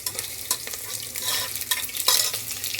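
Ingredients for mutton gravy sauté in a pan, a close, fairly loud crackling sizzle broken by repeated scraping stirs of a spatula, with no talking.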